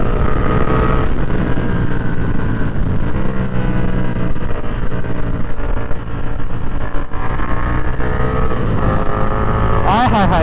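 A KTM 1290 motorcycle ridden hard in sports mode on an open road, its engine roaring steadily and loud throughout with heavy wind rush, revving up near the end.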